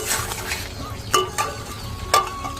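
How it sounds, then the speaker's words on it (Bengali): Masala paste sizzles and fries in oil in a pan, a steady hiss with a few sharp stirring scrapes rising above it, close and fairly loud, with no voices. "দেখো গাইজ মশলা থেকে তেল ছাড়তে শুরু করে দিয়েছে"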